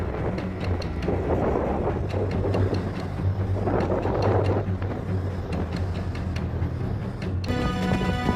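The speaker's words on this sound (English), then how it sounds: "Hook Head on Ireland's southern coast was among the first places to face fierce winds from Storm Brian" Fierce storm winds from Storm Brian batter the coast at Hook Head, Ireland, with loud, gusting buffeting that swells and fades in waves, rough microphone rumble underneath and a brief musical sting near the end.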